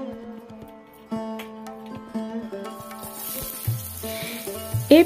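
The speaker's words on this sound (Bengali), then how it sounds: "গরম কড়াইতে তেল দিয়ে একে একে পেঁয়াজ কুচি, কাঁচা লঙ্কা কুচি দিয়ে আমি নেড়ে চেড়ে নিলাম" Chopped onion and green chilli sizzle in oil in a hot kadai, a steady frying crackle with stirring knocks under background music.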